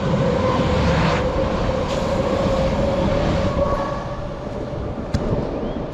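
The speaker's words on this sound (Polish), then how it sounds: "No, pociąg ruszył. Taki szynobus jest." A railbus rumbles steadily as it pulls away, a loud continuous engine drone with a faint rail clatter, gradually easing off.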